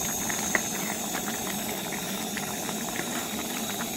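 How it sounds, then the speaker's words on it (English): Trail clam chowder with celery just added simmers and bubbles steadily in an outdoor pot, a constant low burble with faint clicks of stirring and no one talking. "And then we're going to add our celery. We're going to give it a stir."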